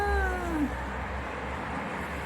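A cat gives a single clear, falling meow right at the start, close and distinct, followed by quiet room background for the rest of the clip.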